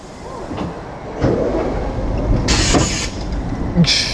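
Over a low mechanical rumble, short bursts of hissing air sound twice near the end as a roller coaster's brakes purge air at Parc Astérix.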